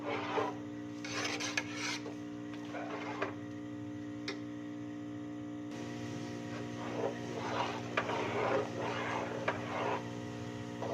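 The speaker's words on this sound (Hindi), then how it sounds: "इसी तरह हमने चम्मच चलाते रहना है वफ़े वफ़े से, ताकि खीर हमारी लगे नहीं।" A spoon scrapes and stirs carrot kheer (gajrela) in a cooking pot. It makes close, rhythmic rasping strokes in irregular bursts over a steady low hum.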